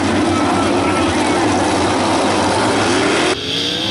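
World of Outlaws sprint cars roar together at Attica Raceway Park, a loud, dense wall of engine noise from a full field racing that suddenly drops back to a thinner, more distant drone, with a commentator talking over it.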